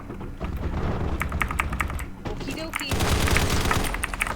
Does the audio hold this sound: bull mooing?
no